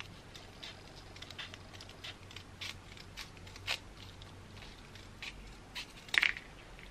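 Scissors snip along the edges of folded paper while a Christmas garland is made: a string of small, sharp crisp cuts and rustles, close up and uneven, with a couple of louder snips near the end.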